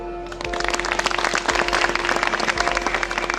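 An audience at a commemoration of Gjergj Kastrioti Skanderbeg in Dibër breaks into applause after a brief pause. The clapping is brisk and steady, fairly close, and continues to the end over a low hum.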